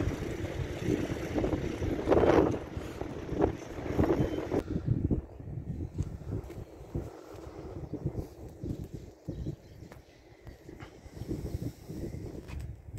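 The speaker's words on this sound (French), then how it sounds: "Et je peux vous dire qu'il y a du vent là, aujourd'hui." Strong coastal gusts of wind at Berck in northern France buffet the microphone with heavy low rumbling, loudest at first and then easing into a steadier blustery roar.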